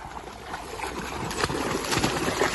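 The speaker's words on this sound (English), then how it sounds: "I heard the splashing from the other side." A cocker spaniel splashes about in water, the sloshing and paddling coming in soft, irregular bursts at moderate distance.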